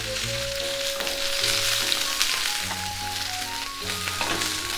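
Prawns fry in a pan for a Japanese ebi chili, a loud, dense sizzle crackling continuously throughout with occasional sharper pops, with no talk.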